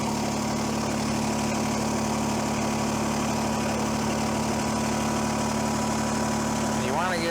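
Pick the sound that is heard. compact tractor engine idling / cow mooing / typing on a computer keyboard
compact tractor engine idling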